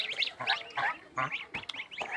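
Goose goslings and adult geese call in short quacking and honking bursts, close and moderately loud, several calls in quick succession.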